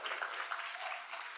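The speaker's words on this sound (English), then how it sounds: "let's give them a hand clap" Audience applause for legal fellowship graduates at a graduation ceremony: a brief stretch of soft, even clapping from a crowd, heard from a distance.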